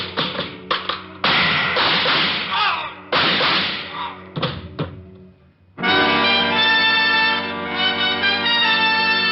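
A shoe dropped as a sound effect in an old-time radio crime drama, heard as a few knocks and thumps in a narrow, dated-sounding band, followed by a sustained musical passage.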